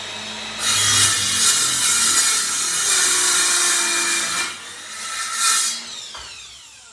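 A Ryobi 7 1/4-inch cordless miter saw makes a single crosscut through wood: a steady, loud high-pitched whine of the blade biting into the board for about five seconds, then spinning down to quiet.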